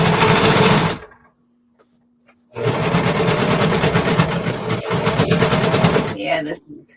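A sewing machine sews fabric bats in two loud, close bursts of fast rhythmic clatter separated by a silent pause, with a faint hum in the gap.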